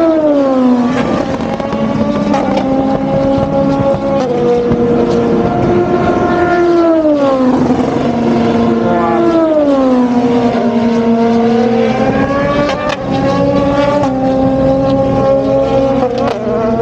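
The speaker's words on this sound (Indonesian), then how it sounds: "kita bisa mendengar bunyi perpindahan gigi, pengereman," Hypercar-class race cars at Fuji Speedway during qualifying, heard from the end of the straight. A loud, continuous engine roar rises and falls in pitch as gears shift and the cars brake, with no talking.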